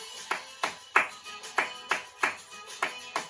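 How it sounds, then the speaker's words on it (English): Hand claps in a floor dance class, single sharp claps at a steady even rhythm, about ten in a row, close and clear with a quiet room between them. "we're going to do claps"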